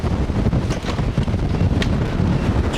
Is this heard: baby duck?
no